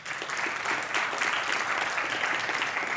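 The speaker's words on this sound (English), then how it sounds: "Give her a round of applause." Applause from a crowd, steady clapping that fills the whole stretch at moderate volume.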